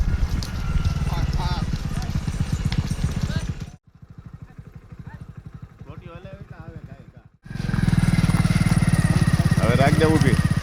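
A mare's hooves clip-clop in a quick, steady rhythm, loud and close, fading briefly to a quieter patch midway before returning at full strength.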